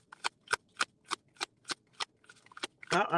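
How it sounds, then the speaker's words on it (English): Tarot cards being shuffled by hand in a series of about ten crisp riffling bursts at a steady rhythm, close and fairly quiet, ending in a denser, longer shuffle. "I don't even know if I shuffled enough"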